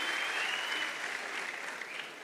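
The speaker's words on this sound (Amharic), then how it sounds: "አጨብጭቡላት" An audience at an Ethiopian gospel singers' talk show applauds in a dense, steady burst, the clapping close and full for the whole moment before gradually thinning slightly.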